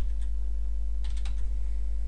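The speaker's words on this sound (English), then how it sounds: "I just go back in translation mode and type my new translation" Quick burst of keystrokes on a computer keyboard while entering a new translation, close and clear over a steady low electrical hum, with a brief pause between clusters of taps.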